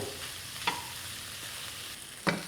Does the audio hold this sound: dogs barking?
no